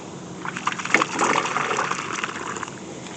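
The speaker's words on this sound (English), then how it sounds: "You want to make sure to put water in the holes this time of year" Water poured or gushing from a hose or can into holes dug for planting evergreen perennials in a garden, a splashing rush that builds after half a second and keeps flowing steadily, close and fairly loud, with no talking.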